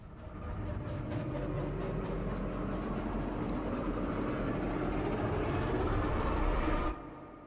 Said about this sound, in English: from Gravity 2, another riser